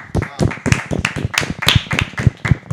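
A small group clapping during a live Grêmio fan broadcast, a quick burst of sharp, uneven claps close by, mixed with cheering voices.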